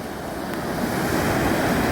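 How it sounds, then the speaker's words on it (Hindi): Strong ocean waves on a large Chennai city beach, a loud continuous roar of surf that swells slightly, with some wind noise on the microphone and no voices. "अब इसके अंदर ये देखिए कितनी तेज़ लहरें हैं।"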